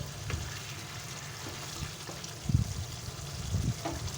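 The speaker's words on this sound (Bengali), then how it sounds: "তরকারিটা ভালো করে ফুটিয়ে নেব।" Soya chunk curry simmers in a pan with a soft, steady bubbling and light sizzle, punctuated by a few louder low bubbles and pops, close and fairly quiet, with no talk.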